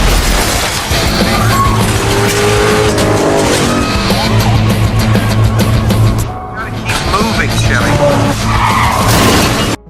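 Loud, sustained tire squeal from a car skidding as it is chased by police into a mall, with engine roar, crashing and shattering bursts, and voices mixed into the chaos.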